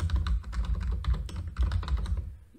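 Fast, even typing on a computer keyboard while writing Java code, a close run of crisp key clicks that keeps up steadily before trailing off.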